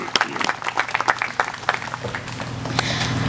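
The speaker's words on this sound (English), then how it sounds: "let's give a round of applause for Jen Vinge, for winner of Service to the Community" An audience at an Australia Day community awards ceremony applauds a Service to the Community award winner, with a burst of distinct, close claps that thins out and blends into softer, steadier applause.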